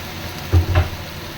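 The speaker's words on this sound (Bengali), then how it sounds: "ধনে গুঁড়ো দিয়ে আবার আমি এটাকে কষিয়ে নেব" Spices sizzle briefly in a pan as a spoon stirs coriander powder through them, two short scraping bursts close up and otherwise quiet.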